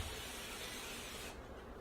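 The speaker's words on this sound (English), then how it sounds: "I use olive oil, like to spray olive oil" Olive oil cooking spray hisses steadily from a can onto a pan for about a second and a half, close and fairly quiet, then cuts off.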